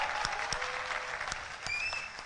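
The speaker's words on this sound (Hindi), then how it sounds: "जोरदार तालियों के साथ स्वागत करेंगे" A studio audience at a Hindi game show claps to welcome the players. The applause is moderately soft and steady, with a few sharper claps standing out through the short burst, and no voices heard.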